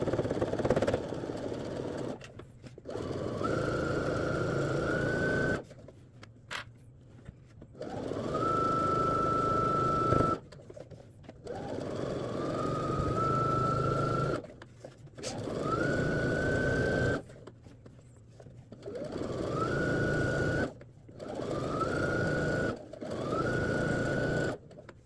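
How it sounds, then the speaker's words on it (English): A sewing machine hems all the way around a skirt, running in repeated bursts of steady whirring stitching, each a few seconds long, separated by short pauses, close and alone. "I'm going to hem, sew all the way around to finish hemming the skirt"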